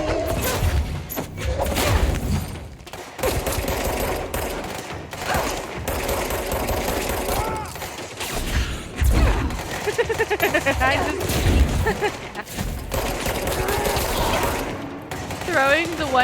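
Rapid bursts of gunfire from the video game Control crackle across the scene in loud repeated volleys with booms and mechanical clatter, while a player talks over the action.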